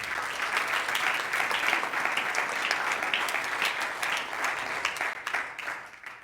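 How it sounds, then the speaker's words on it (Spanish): A church congregation applauds during a sermon, steady dense clapping from a large room that holds for several seconds and then thins and fades toward the end. "Denle ese fuerte aplauso, Señor Jesucristo."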